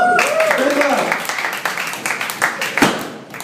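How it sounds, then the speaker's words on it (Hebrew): A comedy-club audience claps, a dense wash of applause that starts under a voice and then carries on alone as steady, fairly loud clapping. "עוד כפיים"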